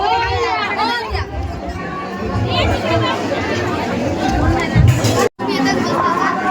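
Dense crowd of devotees at a busy Ganpati temple in Babapur, a loud close babble of many overlapping voices with a brief dropout near the end, with a nearby voice talking over it.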